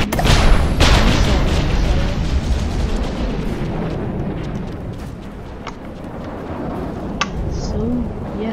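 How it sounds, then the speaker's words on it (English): A particle cannon and missiles fire in the naval combat game From the Depths. The explosions boom heavily and overlap into a dense rumble, with sharp bursts on top, while a voice talks over the battle. "and a particle cannon just fired. Quite a bit of damage. And the Ignis has just opened up its missile."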